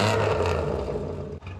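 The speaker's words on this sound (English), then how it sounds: "I think I'll just run the engine for 5 minutes," A Ford Escort Mk2 engine runs to warm its oil, a close, rough idle with a faint clatter, dipping briefly near the end before picking back up.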